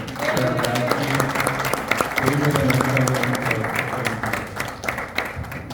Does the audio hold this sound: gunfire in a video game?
no